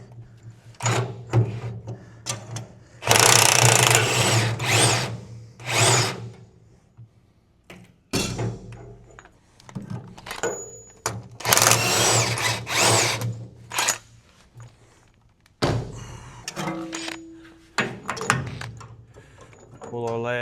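A power tool works a steering bolt loose on a Steiger Tiger tractor in repeated loud bursts of a few seconds each. Clanks and handling noises fall between them, and people talk over parts of the clip.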